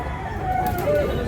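A rooster at a Consolacion, Cebu gamefowl seller's yard gives a short, close crow lasting about a second, with a voice and background noise around it.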